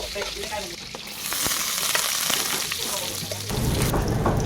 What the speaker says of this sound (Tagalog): Pagkatapos magprito, magisa naman tayo ng bawang at sibuyas.